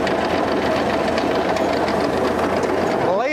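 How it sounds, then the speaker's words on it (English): A rough 1959 Willys CJ3B High Hood jeep runs with a steady mechanical racket from its transmission or transfer case, a dense knocking, whirring clatter that stays loud and constant throughout. "So there's definitely some racket coming from that transmission or transfer case."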